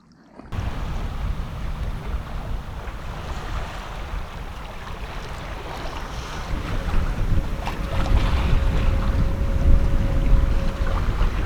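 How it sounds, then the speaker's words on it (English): Sailboat under genoa sailing up the marked passage inside a Tuamotu atoll in the South Pacific: continuous wind rush and water hissing along the hull, building louder toward the end, with a faint tonal hum. "we are sailing up the passageway that's marked in the middle of the atoll here"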